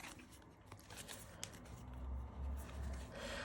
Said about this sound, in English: I think this will shuffle